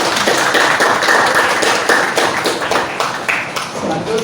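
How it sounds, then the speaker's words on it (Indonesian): A classroom of students clapping together after a teacher's prompt, a dense steady patter of many hands at close range, with faint voices mixed in. "Tepuk tangan dulu."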